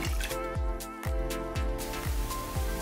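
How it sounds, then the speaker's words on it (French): Water splashed and patted onto a face to rinse off a gentle pH-balanced cleanser, giving a steady run of wet slaps and drips at close range, roughly two per second, with no talking. "Donc maintenant, on va rincer."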